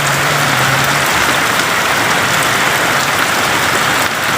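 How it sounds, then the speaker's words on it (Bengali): Steady, dense rain pours down in Gournadi, Barishal, after intense heat, a loud close hiss of drops hitting surfaces that continues unbroken throughout, with a faint low hum briefly underneath at the start. "অবশেষে আমাদের এখানে বৃষ্টি"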